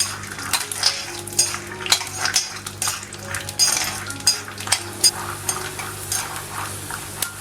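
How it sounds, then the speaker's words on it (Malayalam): Steady crackling sizzle of food frying in hot oil, with occasional stirring clinks and scrapes of a utensil against a pan, close up and without talk. "ഈ കപ്പലണ്ടി നല്ലപോലെ ഒന്ന് വറുത്തെടുക്കണം"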